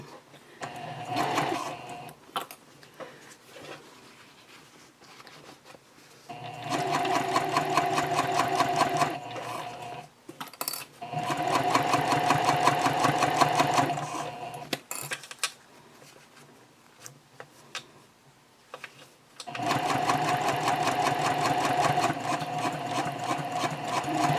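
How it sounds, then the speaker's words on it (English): A sewing machine stitches down one side of a zipper onto fabric for a small key fob coin pouch. It runs in three long, steady bursts of close, even whirring, separated by quiet pauses. "now we're going to sew down this side of the zipper"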